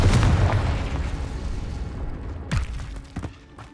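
A Confringo spell explodes in the Hogwarts Legacy video game, a loud booming blast at the start that fades into rumble, with a second smaller burst and crackle near the end.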